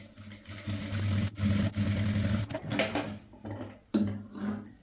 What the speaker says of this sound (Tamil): இப்போ அதில் வந்து ஒரு தையல் போட்டுடலாம்.